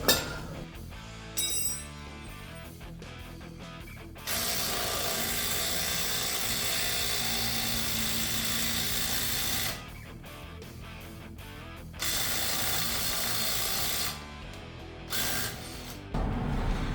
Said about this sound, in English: I'll put it on a breaker bar just because that I can feel when it stops